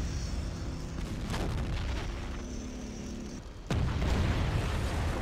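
Artillery fire in a Chechnya mod war game set in the battle for Grozny, a constant rumble of distant booms with a sudden loud blast near the end and a heavier roar after it.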